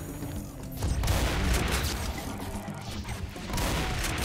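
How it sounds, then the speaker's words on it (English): Grenade explosion in Doom 2, a dense booming blast with rolling crash and debris noise, loud and sustained across the whole stretch with a mechanical rattle beneath. "Nice grenade, very good."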